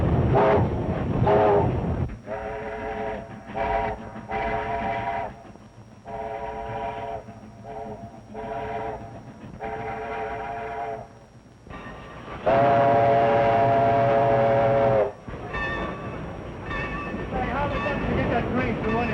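A steam train whistle sounds in several sustained blasts, then a louder, longer blast near the end, with rumbling rail noise beneath.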